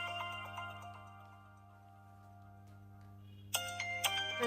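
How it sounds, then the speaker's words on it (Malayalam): A mobile phone ringtone plays indoors, a tonal melodic ring that runs faintly over a steady hum and then jumps louder with bright repeated notes near the end. "ഫോൺ അടിക്കണ നിന്റെ."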